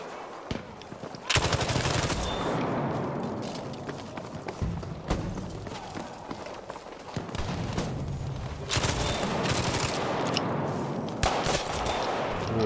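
Gunfire in Battlefield V, including a BAR M1918A2, fires in rapid automatic bursts and repeated shots, loud and close, amid a dense battle soundscape.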